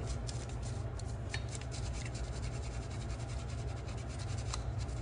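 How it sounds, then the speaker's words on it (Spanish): A brush scrubs a soapy aluminium microblading handle during cleaning for sterilization, a continuous close scratchy rubbing with light rhythmic strokes and no talk. "lo que voy a hacer es empezar a cepillar mi inductor"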